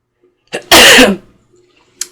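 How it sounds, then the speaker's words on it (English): A single sharp human sneeze, preceded by a quick inhale and followed by a faint exhale, close and loud in a quiet room. "Excuse me, I'm going to sneeze."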